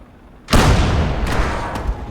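A tank-battle shot in a World War II video game aimed at a German Panzer IV: a sudden loud boom followed by a rumbling, decaying tail with faint metallic after-impacts.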